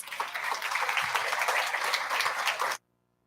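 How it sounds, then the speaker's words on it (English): A crowd at a World Food Day event applauds the speakers, a dense, steady wash of many hands clapping at once that holds evenly for nearly three seconds, then cuts off abruptly into silence. "give them a huge round of applause, please"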